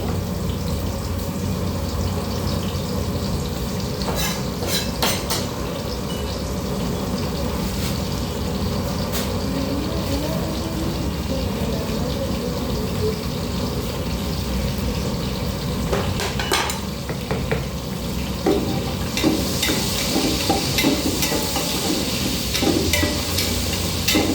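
Green chillies being cut and then stir-fried in a pan, with a continuous sizzle, scattered knocks and scrapes of utensils against the pan, and some clinking near the end.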